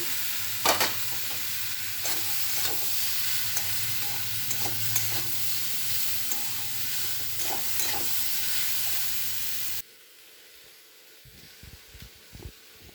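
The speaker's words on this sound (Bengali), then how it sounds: "মাশরুম পেঁয়াজ ভাজা হয়ে গেছে" Mushrooms and onions fry in hot oil with a continuous crackling sizzle and repeated scraping stirs for about ten seconds, then the sound drops abruptly to a quieter room with faint knocks.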